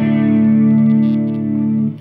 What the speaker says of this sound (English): Tool channels, chorus on one side, echo on the other. I bought it because I love the chorus sound.